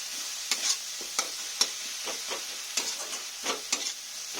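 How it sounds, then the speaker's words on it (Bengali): Spice masala fries in a pan with a bright steady sizzle, punctuated by a rhythmic series of quick spatula scrapes roughly every half second; close, moderate level, no voices. "এবার মশলাটা আমার ভালো করে ভাজা হয়ে গেছে"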